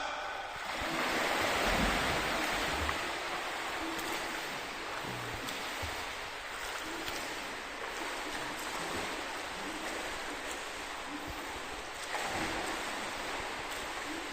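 Continuous broadband water splashing and churning from a 25 m speed swim in a pool, a steady dense wash of sound with a few faint thumps and no clear talk.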